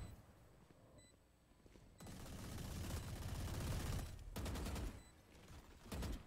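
Raze's swarm grenade in Valorant bursts into a sustained rattling barrage of small explosions, a dense crackling roar lasting a couple of seconds, then a second shorter flurry, heard at moderate distance.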